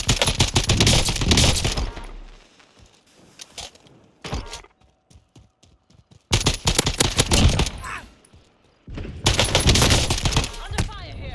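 Gunfire in Call of Duty Warzone comes in bursts of rapid automatic fire separated by brief pauses, with a few single shots and footsteps in the quieter gaps, loud and close.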